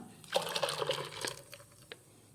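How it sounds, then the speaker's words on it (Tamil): Ground spice paste for panipuri is poured into tamarind water, giving a short run of close liquid splashes and trickles followed by a few soft drips. "இப்போ நம்ம இதை அரைச்சிட்டு வந்ததை நம்ம இதில் ஊற்றிடலாம்."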